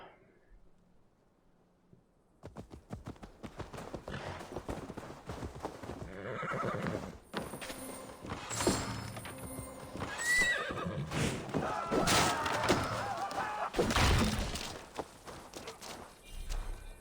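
A horse whinnies and its hooves clip-clop in Assassin's Creed Valhalla, the steady hoofbeats building after a quiet opening and running for many seconds, with a neigh rising over them partway through.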